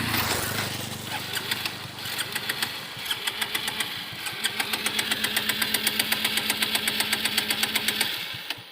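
A motorbike engine runs steadily during a ride through a village, its close, loud drone carrying an even, rapid firing pulse that stays strong and continuous throughout.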